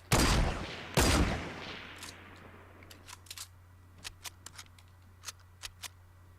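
Two loud, sharp gunshots from the video game Fortnite ring out about a second apart, each trailing a short echo, followed by a scatter of quieter clicks and taps over a steady low hum.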